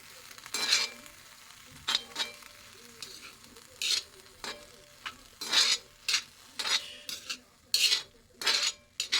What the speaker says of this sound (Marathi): सुकी कर्दी चांगली अशी त्याच्यामध्ये मिक्स करून घ्यायची